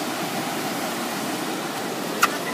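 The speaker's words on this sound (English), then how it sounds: "the river is right over here" A river in Japan, surrounded by autumn scenery, rushes steadily in a constant broadband wash of water, even and moderately loud, with one brief click near the end and no voices.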